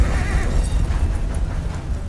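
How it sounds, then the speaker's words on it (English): A galloping horse in the video game Red Dead Redemption 2 gives a loud, close whinny over steady rapid hoofbeats that continue throughout. "Boy, this horse fast."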